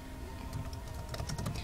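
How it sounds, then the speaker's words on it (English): Quick, irregular keystrokes clatter on a computer keyboard, close up over a low room hum, the taps growing denser toward the end. "I'm typing."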